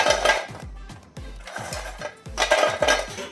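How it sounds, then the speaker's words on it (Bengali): Crispy fried snacks made from moong dal and flour tumble into a mixing bowl, sounding as a run of hard, clattering rattles and clinks that come in quick repeated bursts, close and fairly loud. "এখানে মিক্সিং বাউল নিয়ে এর মধ্যে সব নোনতাগুলো ঢেলে দিলাম দেখুন কতটা খাস্তা হয়েছে সেটা আওয়াজটা শুনে বুঝতে পারবেন"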